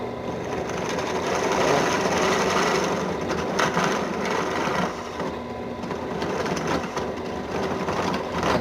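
A power drill whirs steadily and loudly, drilling out the top of a shotgun shell, a continuous buzzing grind with slight fluctuations throughout and no pauses.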